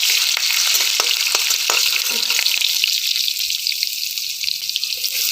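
Garlic sizzles steadily in hot tempering oil for a village-style waghata vegetable curry, with a spoon scraping and stirring through it in sharp, repeated clicks against the pan. The frying hiss stays loud and constant throughout.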